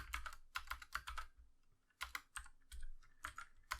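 Quiet keystrokes tapped in quick bursts on a computer keyboard while writing Unity game code, clusters of clicks separated by short pauses, close and alone.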